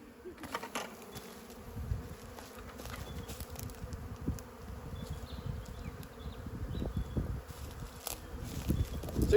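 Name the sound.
honey bees buzzing while shaken into Flow Hive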